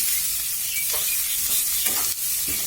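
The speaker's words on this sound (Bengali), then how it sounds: "পেঁয়াজটা একটু হালকা গলা পর্যন্ত, একটু নরম নরম হবে, সেই পর্যন্ত আমি এটা নাড়তে থাকবো" Onions frying in a pan give a continuous close sizzle, broken by a few soft scraping strokes as they are stirred, with no talk.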